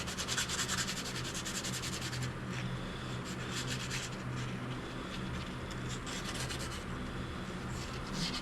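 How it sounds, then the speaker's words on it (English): Sandpaper rubs steadily on an air compressor button, a continuous close scratchy scrubbing that runs the whole time with quick back-and-forth strokes at first. "I'm just using a little sandpaper to clean up this button."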